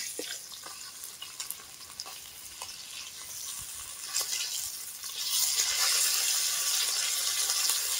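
Small parshe fish frying in hot oil in a village-style kadai, a steady crackling sizzle with faint scraping touches, growing louder and denser toward the end.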